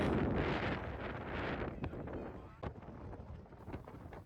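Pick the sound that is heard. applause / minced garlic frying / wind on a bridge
wind on a bridge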